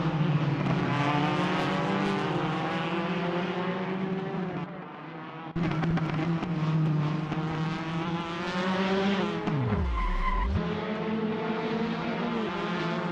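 In a Formula Argentina racing video game, a race car's engine whines and shifts steadily, then drops sharply as the car loses grip and spins out on a corner before the engine picks back up; no voices.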